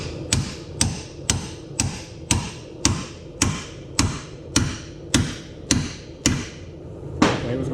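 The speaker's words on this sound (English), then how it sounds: "Take this hammer." A hammer strikes a pickle fork driven into a ball joint on a lowered 2003 Chevy 3500 dually, about a dozen sharp metallic blows ringing out close and loud at a steady, even rhythm, with no speech.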